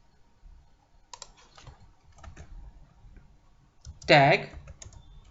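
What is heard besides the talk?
typing on a computer keyboard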